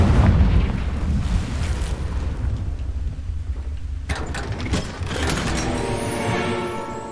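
A Confringo explosion spell goes off in a video game with a loud, broad blast and rumbling roar, then a fresh burst and crackling debris around the midpoint, continuing loudly to the end with no talking.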